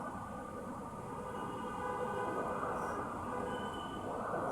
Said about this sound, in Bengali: এই যে মেট্রো রেল চলে আসছে কাছাকাছি